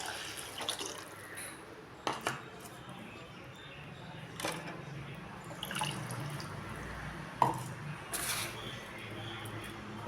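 Rice-washing water is added to a rasam pan in a kitchen, with intermittent pours, drips and light splashes set against a quiet background.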